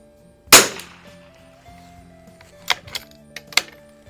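Single sharp report from a Lakefield model 91T .22 LR bolt-action target rifle, close and loud, followed by a few quieter metallic clicks and clacks of the bolt being worked.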